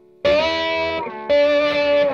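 Electric slide guitar in open E tuning played through distortion without muting the other strings, two sustained chiming notes with ringing overtones, a short gap between them, loud and close with no talk.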